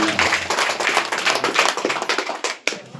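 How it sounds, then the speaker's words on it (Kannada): Loud applause from a crowd at a children's village assembly, dense steady clapping for about three seconds before it thins out and stops. "ಸರ್ ಅವರಿಗೆ ಜೋರಾದ ಚಪ್ಪಾಳೆ ಮುಖಾಂತರ ತುಂಬುವುದರಿಂದ"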